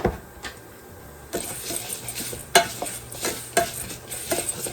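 Gluten-free pasta browning in a pan for a homemade copycat Rice-A-Roni chicken flavour dish, with a soft sizzle under irregular scraping stirs of a utensil against the pan.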